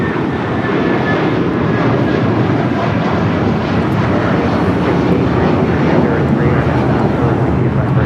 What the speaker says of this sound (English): This is United Airlines 2113 taking off to Chicago on the 757-300.